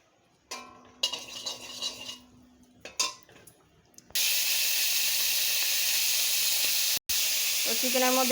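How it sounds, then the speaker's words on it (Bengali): Pieces of chicken are fried with salt in a pan for a chicken stew: a few clinks and scrapes of utensils first, then a loud, steady sizzling hiss for the rest of the clip. "লবণ দিয়ে চিকেনগুলো আমি একটু ভেজে নেব"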